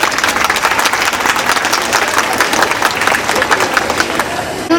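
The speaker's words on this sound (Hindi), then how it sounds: "पहले एक बार आप अपनी खुद के लिए जोरदार ताली बजाएं।" Large crowd at a rally for the Lado Rani Laxmibai organisation applauding loudly, dense continuous clapping close and strong for several seconds.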